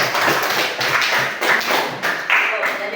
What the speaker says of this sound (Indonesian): Kita tepuk tangan dulu untuk Adriana.